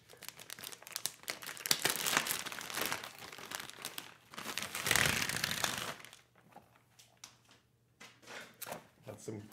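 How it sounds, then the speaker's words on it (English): Paper crinkles and rustles as it is pulled from a bag while unboxing magic books, in bursts of handling noise of moderate loudness with someone talking over parts of it. "I can smell the paper coming out of the bag."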